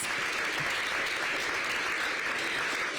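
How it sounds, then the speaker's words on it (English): A crowd gives a big, sustained round of applause for DC public school teachers, a thick, even wash of many clapping hands that holds steady throughout. "So give them another big round of applause."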